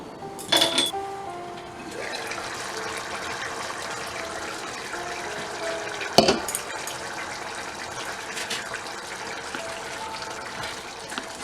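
A metal lid clinks down onto a cooking pot of chickpeas with a sharp clatter near the start and another clink midway, over a steady background hiss of cooking.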